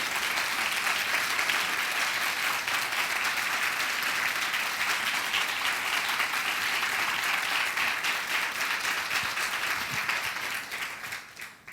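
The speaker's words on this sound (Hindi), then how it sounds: "let's give a big loud applause unto the Lord" A church congregation at a Hindi Sunday service applauds steadily and loudly, a dense sustained wash of clapping that holds for about ten seconds before easing off at the end.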